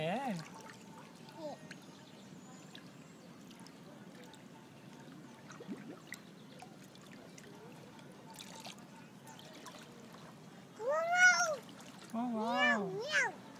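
A cat meows several times in a row near the end, fairly close and clear, after a stretch of quiet room sound with faint movement.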